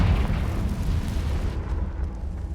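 In Hogwarts Legacy, a Confringo spell explodes with a loud, deep booming blast. The rumble fades over a couple of seconds, with no speech over it.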